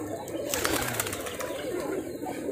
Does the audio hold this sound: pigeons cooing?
yes